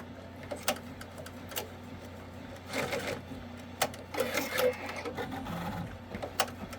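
An Avance embroidery machine runs on manual on needle 4, giving quick bursts of mechanical needle clatter and ticking with pauses between, close by over a low hum.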